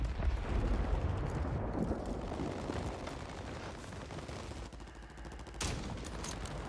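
Kar98k rifle fire in a shooter game on Rebirth Island, heard as dense, loud bursts of gunfire and booming reports in a continuous noisy battle, with a sharp shot near the end and no voices.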